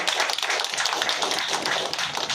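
A room full of guests applauds at the opening of a Karur Vysya Bank branch in Pallikkaranai, Chennai, with dense, steady clapping close by.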